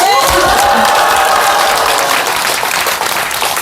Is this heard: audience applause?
yes